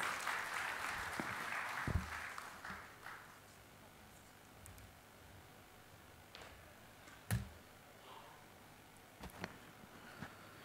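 Applause as a stock exchange CEO is called onstage at an ANMI international conference; the clapping is fairly dense at first, then thins and fades into scattered faint claps in a quiet hall.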